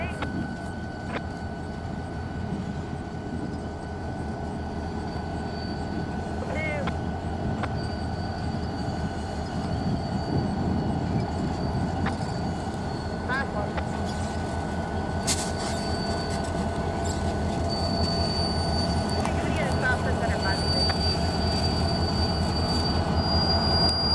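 Freight train CN 568 rolls past at close range, a steady rumble of cars and wheels with shrill, sustained wheel squeal rising toward the end as the tail end goes by.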